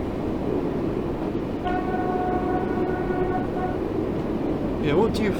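A Class 484 train horn sounds in Train Sim World 2 on the Isle of Wight line, a steady multi-tone blast lasting about two seconds over constant cab and rail rumble, with a brief fainter tone near the end.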